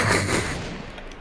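A single loud gunshot in a video game cracks sharply at the very start, then a rumbling echo tails off over about a second.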